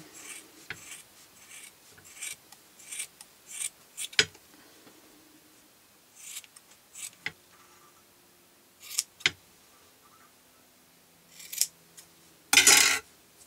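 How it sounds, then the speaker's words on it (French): Scissors snipping off excess material from a fluffy Christmas snowman decoration, a handful of sparse, close crisp cuts and rustles separated by quiet pauses, with a louder burst near the end. "Et puis là, on va pouvoir couper l'excédent."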